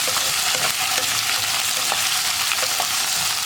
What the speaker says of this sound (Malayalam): ഉരുളക്കിഴങ്ങ് ഇനി നന്നായിട്ടൊന്ന് വഴറ്റിയെടുക്കണം.